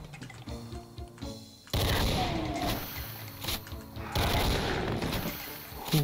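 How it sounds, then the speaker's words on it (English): Shotgun volleys roar in Doom 2 against roguelike monsters: dense, loud blasts and explosive crashes in overlapping bursts, after a quieter opening stretch of gameplay noise. "shotgun volleys work out quite well in these kinds of situations"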